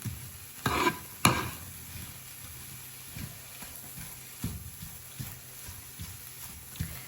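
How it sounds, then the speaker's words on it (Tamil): Onions and a mutton fried rice mixture are stirred in oil, a low ongoing sizzle with a couple of loud scraping clatters early, then softer intermittent stirring, close and without talk. "அடி பிடிக்காம அடிக்கடி நாங்கள் கிளறி விட வேணும்."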